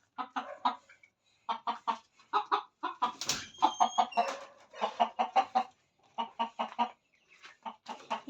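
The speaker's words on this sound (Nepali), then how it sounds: "यहाँ चाहिँ हाम्रो पोथी अन्डा निकालिरहेछ" Hens and a rooster in a backyard flock cluck in steady, repeated bursts, one laying hen among them, with a louder squawking flurry in the middle before the rhythmic clucking resumes.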